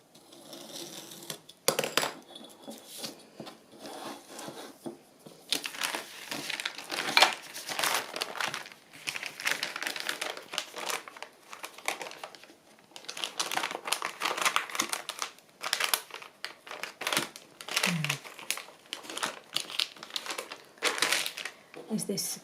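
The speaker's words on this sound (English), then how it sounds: "So this will be the inside, so I'm going to fold it in." Paper bag being folded and creased by hand to make a journal, giving close, intermittent crinkling and crisp rustles while a person talks over it.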